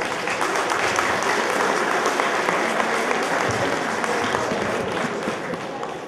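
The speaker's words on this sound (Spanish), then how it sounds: "los dos compañeros se merecen un fuerte voto de aplausos" Loud, dense applause from a large audience of students at a university forum for two secondary-school student leaders, a thick continuous roar of clapping sustained throughout and tapering slightly at the end.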